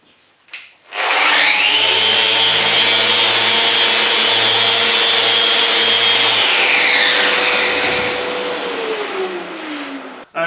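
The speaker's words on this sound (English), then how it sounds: "I thought I'd just demonstrate to you that you can sand veneers with a sander like this." A Festool Rotex 150 sander works over veneered MDF with a loud continuous whine and rough rubbing. It spins up, holds a steady pitch for several seconds, then winds down near the end.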